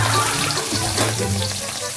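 Dried salay-salay fish sizzles in hot oil in a pan, a close, steady crackling hiss with faint bubbling throughout.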